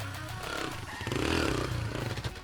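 A dirt bike engine runs close by, its rough, steady drone rising and falling slightly as the throttle changes, with no talking.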